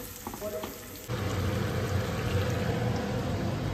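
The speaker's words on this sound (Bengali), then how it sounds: "তো চলুন পেঁয়াজ বেরেস্তাটা কমপ্লিট করি আগে।" Onions sizzle in hot oil for biryani beresta. After a quiet first second, a loud, steady crackling fry starts abruptly and continues to the end.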